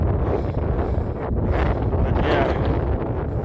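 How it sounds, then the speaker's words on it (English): Heavy wind on Mount Rogers, Virginia buffets the microphone in a constant loud rumbling roar, with a brief spoken remark nearly buried underneath. "I don't know if you could hear me. It's pretty windy."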